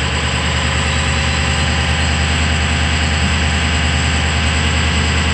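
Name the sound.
truck engine idling while warming up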